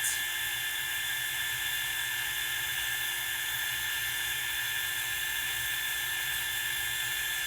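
An electric embossing heat tool whirs steadily and close while melting embossing powder on a stenciled card, a constant high-pitched blowing hum with no talk.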